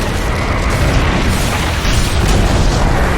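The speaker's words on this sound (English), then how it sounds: "Dire's middle tower has fallen" Rumbling, booming destruction of a tower in a Dota 2 match, a continuous loud dense roar of blasts and crumbling with no pause across the whole stretch.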